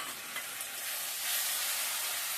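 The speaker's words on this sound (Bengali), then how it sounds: "আদা রসুনটা ভাজা হয়ে গেছে এবার লঙ্কাটা দিয়ে দিচ্ছি লঙ্কা বাটাটা" Ground chili paste dropped into ginger and garlic already frying in hot oil for a kalbaus fish coriander dish, giving a close, steady sizzle that swells louder toward the end, with no voices.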